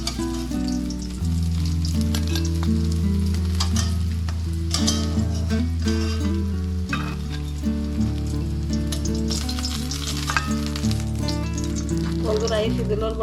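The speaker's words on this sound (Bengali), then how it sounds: "লাল লাল করে আপনারা ভাজা করবা কম আগুনে মিডিয়াম আগুনে করবা" Shidol fritters made with pumpkin leaves fry in oil over medium heat. A steady crackling sizzle runs under loud, sustained tonal music-like sounds.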